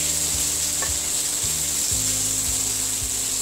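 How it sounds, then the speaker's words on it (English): Tomatoes fry in a pan for a prawn and jackfruit curry, giving a steady close sizzle that runs through the whole clip, broken by a few low knocks of stirring. "I want my tomatoes to get nicely fried."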